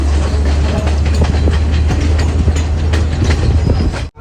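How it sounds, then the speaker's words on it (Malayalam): The Podi Menike Express runs on Sri Lanka's main line from Colombo to Badulla, heard from on board as a loud, steady rumble with a deep low drone and rhythmic wheel clatter. "കൊളംബോയിൽ നിന്നും ബാദുല എന്ന് പറഞ്ഞ സ്ഥലത്തേക്ക് പോകുന്ന പൊടിമേനിക എക്സ്പ്രസ്സിലാണ് ഞങ്ങൾ യാത്ര ചെയ്യുന്നത്."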